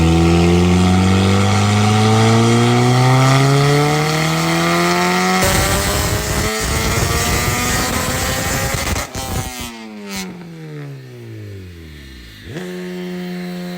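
Turbocharged B-series Honda CRX engine pulling hard on a dyno, loud and close: a rising rev sweep, a blast of broadband turbo roar near the top, then the revs drop sharply and climb again briefly.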